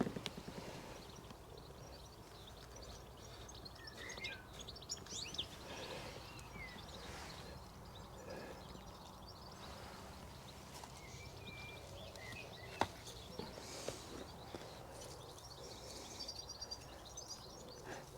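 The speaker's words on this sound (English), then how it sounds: "listen to all the blackbirds singing" Birdsong drifts across an allotment, scattered whistled phrases over a soft, steady outdoor background, faint and distant with no talking.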